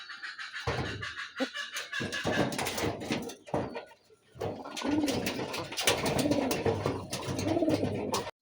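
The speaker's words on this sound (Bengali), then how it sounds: "এক জোড়া ফ্রেশ কালো সাদা মাস্টার পেয়ার কবুতর বিক্রি করা হবে" A pair of black-and-white Rajgolla pigeons cooing in repeated low, throaty calls close by, mixed with scratching and rustling.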